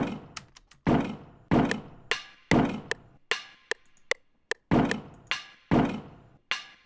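Punchy kick drum hits sound at an uneven, repeated pace, each sharp thump followed by a short decaying rattle, with lighter taps scattered between them, close and dry.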